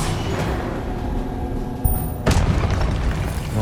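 Booming fire-spell blasts from the Confringo explosion spell in the Hogwarts Legacy video game rumble continuously and loudly, with a sharper impact burst partway through, amid dense combat noise.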